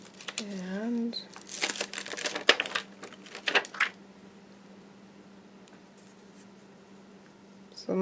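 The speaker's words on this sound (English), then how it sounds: "I went ahead and going to put those pencil marks in between my corners here" A pencil scratches marks onto cardstock during card making, a cluster of short brisk strokes over a faint steady hum, followed by quiet with a soft voice talking.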